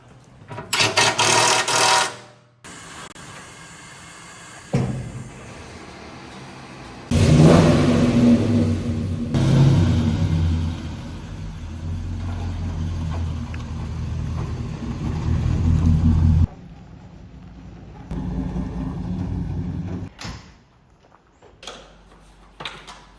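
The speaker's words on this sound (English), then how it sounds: "you just put Flowmaster 44s on it. Makes a huge difference in the sound." A 1959 Chevy truck with a modern engine swap and Flowmaster 44 exhausts revs hard in bursts, with a loud opening rev, a long roaring stretch in the middle and short blips near the end, close and without talk.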